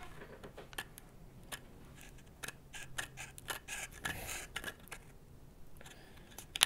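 A razor blade slices through a piece of paper, a series of faint, crisp scratching ticks and rasps spaced irregularly over several seconds in a quiet room.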